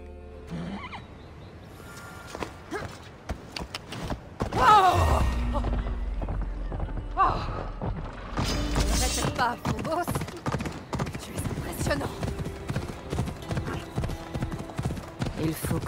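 The horse of Hades in the Assassin's Creed Odyssey video game gives a loud whinny and clopping hooves over a game soundscape, with a voice speaking throughout.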